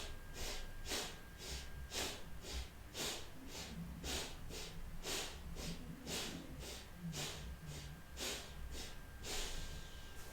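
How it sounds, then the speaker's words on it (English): Forceful Bhastrika yoga breaths, rapid and rhythmic, about sixteen sharp nasal bursts in a steady pulse, close and clear with no talking. "take a few Bhastrika KD breaths. So inhale and exhale forcefully"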